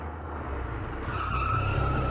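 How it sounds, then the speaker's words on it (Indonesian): A car arrives with its tires skidding, the loud squeal rising and holding steady as the vehicle approaches and comes close. "Oh, cepat lihat. Itu mobil keluarga Shen"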